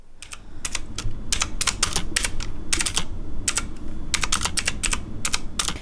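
Fast, steady typing on an RGB computer keyboard, loud clacky keystrokes coming in quick bursts with brief gaps, close-up and alone.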